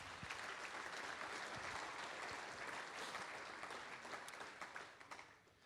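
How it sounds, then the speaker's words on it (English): Audience applause at an agricultural summit welcome, a dense, steady wash of many hands clapping that holds for several seconds before thinning out toward the end; no voices over it. "Please join me in giving Mike a round of applause."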